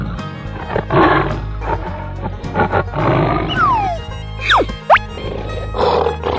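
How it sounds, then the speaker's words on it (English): A tiger roars over layered music, with a couple of sharp rising and falling animal calls near the end, fairly loud and close. "Tiger."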